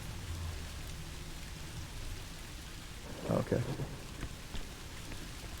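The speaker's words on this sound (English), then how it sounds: "It's just rain." Steady rain falls as a soft, even hiss in the survival horror video game Song of Horror, with a brief spoken voice partway through.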